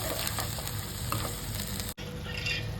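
Fish curry masala with green chilli and ginger-garlic paste sizzles in a pan during stirring, a continuous frying hiss with a few scraping touches and a brief cut near the end.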